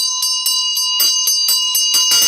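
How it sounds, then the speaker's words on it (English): A Tibetan ritual bell rings at a steady quick rhythm during a Green Tara sadhana practice, bright and close, its shimmering tones repeating about ten times and building slightly in loudness. "And I ring the bell of"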